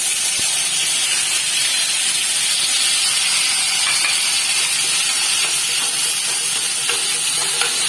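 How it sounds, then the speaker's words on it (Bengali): Ginger garlic paste frying in oil in a kadai, a dense, continuous sizzling hiss that stays loud and even throughout with faint scraping underneath. "আদা রসুনের পেস্টটা খানিকটা দিয়ে দিলাম, এটা একটু কষে নেব।"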